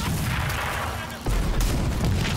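A Goon Squad tank cannon fires in Rage 2, a single deep, heavy boom cutting through ongoing battle noise midway through.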